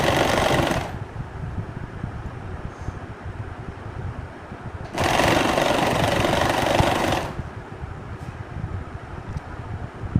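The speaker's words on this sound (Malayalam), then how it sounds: "ഇതുപോലെ സ്റ്റിച്ച് ചെയ്തെടുക്കുക കേട്ടോ." A sewing machine stitches waste curtain fabric into a scrunchie, heard as two close bursts of steady, rapid mechanical whirring with a quieter gap between them. No one speaks.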